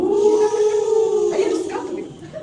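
Human voices imitate wolves howling in a forest scene: a long sustained wavering howl, then a second voice joins with a rising cry, close and fairly loud.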